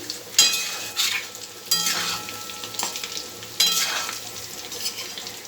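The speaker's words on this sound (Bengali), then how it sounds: "আমার আলুটা ভাজা হয়ে গেছে লাল করে" Potatoes fry in mustard oil, sizzling steadily, with a few louder bursts of scraping and stirring in the pan.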